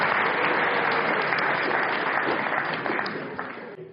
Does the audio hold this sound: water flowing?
no